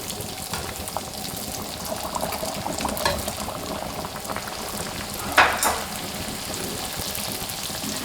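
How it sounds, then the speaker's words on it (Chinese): Youtiao dough strips frying in oil heated to roughly 70–80 percent, a steady broadband bubbling sizzle throughout with a brief louder crackle burst near the middle; no voices. "起锅烧油，油温达到7、8成热，放入生皮。"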